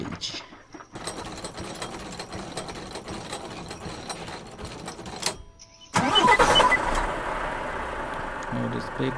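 Heavy truck carrying a large transformer load, engine running as it reverses slowly in gear, a steady mid-pitched drone that grows louder and rougher partway through, close by.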